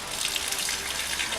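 Tap water pours in a steady, continuous splashing rush that stays even and close throughout.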